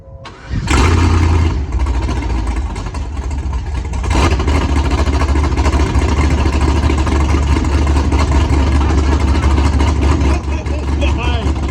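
A loud, turbocharged car engine runs close by, recorded right at the intake after a failed mass air flow start; a sharp burst of revving gives way to a steady, heavy roar, with people talking over it.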